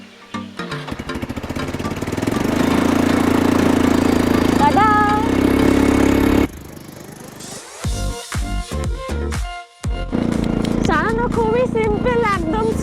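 An ATV engine drones steadily at the start of a beach ride at Dublagadi Sea Beach, then cuts out and gives way to choppy sounds. People talk over the engine throughout.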